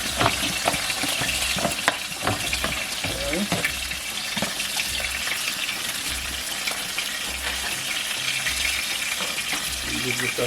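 A seafood medley with string beans being stirred in a smokepot, steady bubbling and sizzling broken by repeated scraping and knocking strokes.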